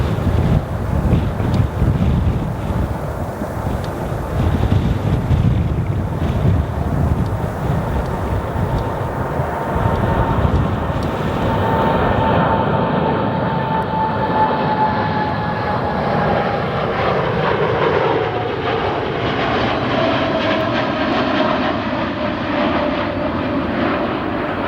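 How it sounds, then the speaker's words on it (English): A heavy Boeing 777 jet departs O'Hare airport at night, a loud broad engine roar with wind buffeting that slowly recedes and thins as the aircraft climbs away, its high whine fading. "Next we've got a heavy departure, looks like a 787, or a 777 actually."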